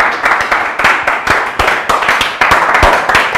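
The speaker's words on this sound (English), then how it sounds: "You clap for me." Hands clap on a comedy quiz show stage, a quick run of sharp, close claps with uneven spacing over a steady background of crowd noise.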